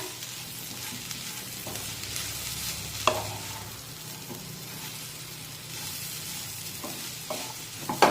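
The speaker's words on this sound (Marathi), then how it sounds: "आता ही मिरची मसाल्यामध्ये मिक्स करून झाल्यानंतर यामध्ये चवीनुसार मीठ टाकूया मिक्स करून घेऊया" Bell pepper sabzi with masala and salt is stirred in a pan, giving a steady close sizzle broken by scraping and occasional sharp clinks of the spoon against the metal, with no voices throughout.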